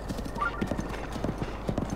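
A horse's hooves clip-clop at a steady trot in Zelda: Breath of the Wild. The footfalls are evenly spaced and moderately close over a constant low background hum.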